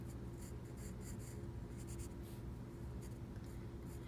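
A pencil scratches steadily on paper as details are added to a still life drawing of a cup, with short strokes over a constant low background hum.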